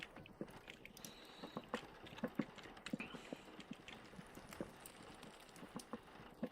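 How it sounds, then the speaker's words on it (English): Rain in the video game Vintage Story: faint, irregular pitter-pattering taps scattered over a quiet, hissy background, with no voices. "It's raining. You can hear it kind of pitter-pattering."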